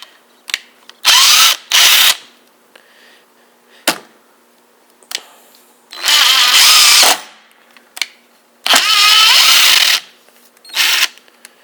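A Ryobi 18V impact driver sinks a 3-inch screw into a 2x4 in several loud, close bursts of rattling hammering, each a second or two long, with short clicks and pauses between them.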